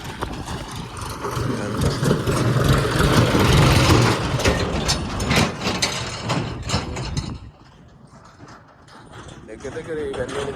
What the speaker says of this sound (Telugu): ట్రాక్టర్ అయితే నడుస్తుంది